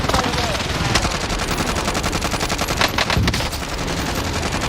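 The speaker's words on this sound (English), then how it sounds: "Enemy precision airstrike" Rapid, continuous automatic gunfire and explosions from a Call of Duty precision airstrike, loud and dense throughout with a few heavier bursts near the middle, an in-game voice faintly audible beneath.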